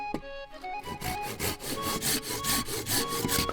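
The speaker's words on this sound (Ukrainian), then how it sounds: "Палиці на дрова розпилює немов масло, всього лиш за кілька рухів." Hand saw cutting through firewood sticks in a few quick strokes, a steady rasping rhythm of back-and-forth sawing, close and fairly loud with no talking.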